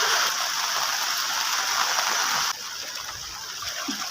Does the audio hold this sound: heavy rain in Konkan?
yes